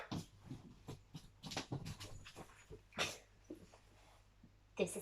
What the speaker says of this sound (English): This is my dog Bruno.